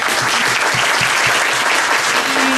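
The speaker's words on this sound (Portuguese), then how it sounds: "Quero pedir uma salva de palmas para o professor." An audience applauds a professor after a labour law lecture, dense and loud steady clapping filling the room with no voices over it.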